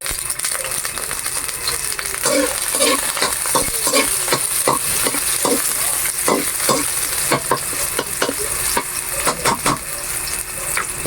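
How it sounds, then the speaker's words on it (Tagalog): Garlic and onion sautéing in a pan, a continuous loud sizzle with repeated scraping and clinking of a utensil as the pieces are stirred, heard up close. "Gisa muna tayo ng bawang sibuyas."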